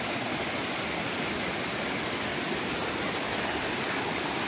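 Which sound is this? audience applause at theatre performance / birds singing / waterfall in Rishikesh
waterfall in Rishikesh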